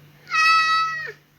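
A cat spawned in a video game gives a single clear meow of about a second, close and loud over a faint steady hum.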